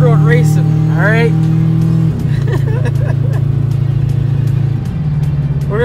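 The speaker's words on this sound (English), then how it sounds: "We're gonna see how fast a slow car can go in the mountain roads" A car engine in a mountain road racing video game holds a loud, steady drone with rising revs, dropping once as it shifts, while someone talks over it throughout.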